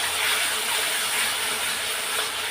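Spice paste with ginger paste and salt frying in a pan for chicken kosha gives off a steady, close, even sizzle that runs without a break, with no voices.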